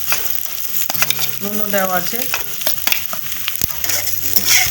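Nearly cooked fried potatoes are stirred into a sizzling pan for banana flower curry, with a steady frying sizzle, scraping stirs and someone speaking briefly over it.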